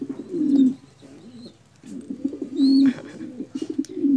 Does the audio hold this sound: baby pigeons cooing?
yes